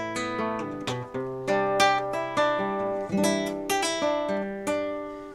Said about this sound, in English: whether my classical guitar sounds better amplified or unamplified